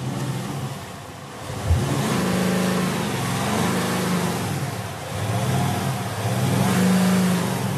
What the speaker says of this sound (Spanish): a que lo enciendas y a que escuchemos el sonido de, este Maserati Ghibli